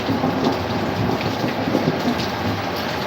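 Steady moderate rain heard through a slightly open window during a thunderstorm, a dense continuous patter and hiss with a low rumbling undertone, no voices.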